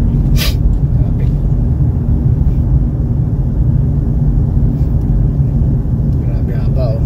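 Slow rush-hour traffic crawls along a snowy road, a dense, steady rumble of car engines and tyres with a brief hiss early on, while a person talks over it.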